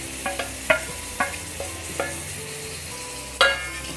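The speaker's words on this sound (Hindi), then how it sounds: "इनको हमें तेज़ फ्लेम पर कच्चापन निकलने तक फ्राई करना है" Finely chopped carrots and beans fry over a high flame for a hot and sour veg soup, with a steady sizzle punctuated by several sharp, regular spatula clanks against the pan.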